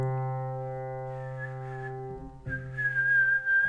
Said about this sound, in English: imagine that someone is whistling a tone that no one is singing